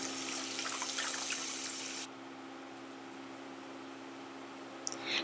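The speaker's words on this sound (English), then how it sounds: "Rinse the shrimps under the cold water." Cold tap water runs steadily over shrimps being rinsed, a broad hissing stream that softens abruptly partway through, then trickles on quietly with a small clink near the end.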